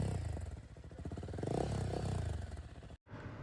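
A Royal Enfield Guerrilla 450 motorcycle fitted with an Akrapovic exhaust idles and blips nearby, a deep loud burbling thump that rises briefly before cutting off near the end.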